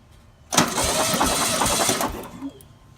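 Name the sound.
VW Sunbug engine cranking for compression test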